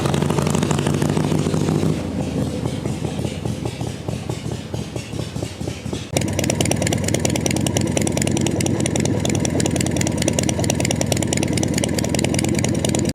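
The engine of a 1975 Harley-Davidson FLH Shovelhead motorcycle runs loud and close with a steady pulsing throb. It eases briefly, then swells back to a fuller roar that holds to the end.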